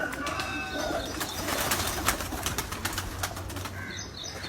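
Breeder pigeons coo softly amid faint chirps and a brief flutter of wings, with a low background hum underneath.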